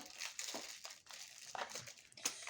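Toy surprise box packaging being opened by hand, with repeated crinkling and crumpling bursts of plastic or paper, close and fairly quiet, in short irregular rustles.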